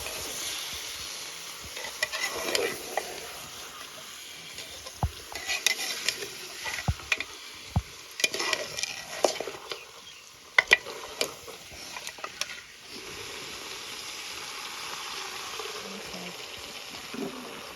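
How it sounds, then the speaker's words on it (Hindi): Stirring and frying quince apple with Kashmiri meat in a pan, a spoon scraping and knocking in irregular bursts over a low steady sizzle. "ये भी अच्छे से हम मिक्स कर लेंगे सारी चीज़ों के साथ और फ्राई कर लेंगे"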